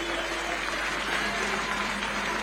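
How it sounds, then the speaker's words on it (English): An audience applauding for a Royal Highness at a formal gathering, a steady even wash of clapping from many hands, continuous and moderately loud. "May we clap for our Royal Highness?"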